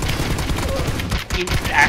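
Rapid gunfire in PUBG crackles in a quick, uneven burst of sharp shots over ongoing game noise, with a brief lull just past the middle.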